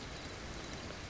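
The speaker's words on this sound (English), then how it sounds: "You might become aware of this gentle tapping, a quiet conversation between the rain" Gentle rain taps steadily on a treehouse, a soft, even patter of drops with no voices, continuous through the whole stretch.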